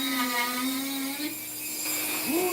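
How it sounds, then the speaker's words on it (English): A Dremel rotary tool with a carving bit digs into wood for a Green Man carving, a close, steady high whine whose pitch dips and shifts as the bit bites. "good Dremel bits, don't hurt anything to get a little digging done"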